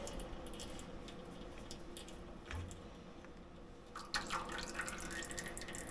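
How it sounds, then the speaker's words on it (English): Fluid from a hydraulic line on a broken roller compactor drains and drips into a catch pan, a steady close trickle with scattered drips that grows busier toward the end. "Hopefully it's just what's in this line that's draining right now."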